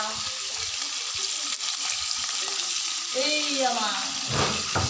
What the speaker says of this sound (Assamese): মাছ ফ্ৰাই কৰি আছোঁ